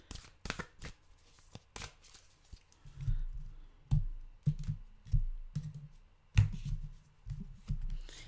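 Tarot cards are shuffled by hand in repeated soft riffling bursts, with light taps and pauses between them, close and quiet.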